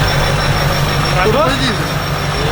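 A low, steady idle from a 3.6-litre car engine rumbles throughout, with a person talking over it.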